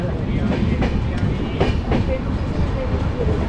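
A Konkan Railway passenger train heading toward Sawantwadi, heard from on board as a constant loud rumble with rhythmic clickety-clack wheel beats over the rails.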